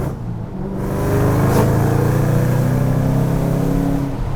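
A Ford Shelby Mustang GT500's 5.4-litre supercharged V8 revs up into a loud, deep, rising roar, swelling then holding steady close by, with no talking.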